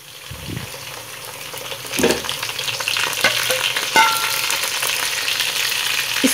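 Onions, tomatoes, green chilies and ginger garlic paste frying on high flame give off a steady, close sizzle, with stirring scrapes and clinks in the pan and no talking.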